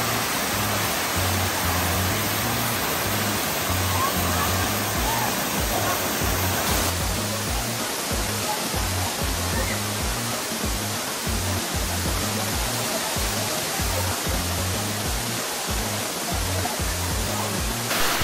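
A waterfall in New Corella, Davao del Norte, gives a loud, steady rush of falling water that fills the whole clip without pause, close to the listener.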